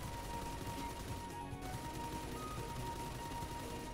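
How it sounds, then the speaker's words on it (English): A light machine gun fires in the Phantom Forces video game in a dense, continuous rattle of rapid shots that runs unbroken for several seconds at a steady, fairly quiet level. "I just love shooting through walls."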